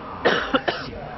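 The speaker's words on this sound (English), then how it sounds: "I apologize for all the coughing because I'm not really feeling well." Three short coughs from a sick esports commentator close to the microphone, one longer burst followed by two quick ones, with faint background hiss.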